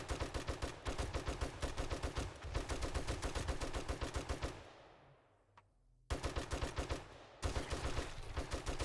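Rapid automatic gunfire in the video game 7 Days to Die, loud and close, comes in long sustained bursts. One brief pause lets the sound fade to a decaying tail before the firing resumes.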